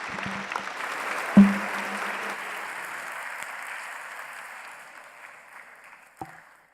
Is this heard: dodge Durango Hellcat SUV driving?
no